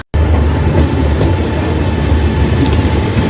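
The Howrah–Rampurhat Sahid Express pulls away at Howrah, a loud, steady rumble of railway wagons with faint wheel clatter rolling beneath it, heard close and without voices.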